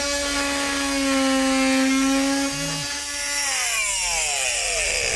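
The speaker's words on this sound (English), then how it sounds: "trim that extra wood" Power saw trimming excess wood during an air conditioner installation, a steady loud whine with a pitch that drops as the cut finishes, running alone without talk.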